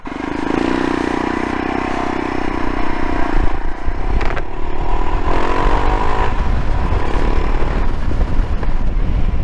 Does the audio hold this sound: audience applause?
no